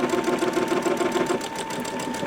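A Babylock or Brother sewing machine runs steadily, sewing a decorative stitch with a fast, even mechanical whir and rapid needle rhythm, close up and moderately quiet, with no talking.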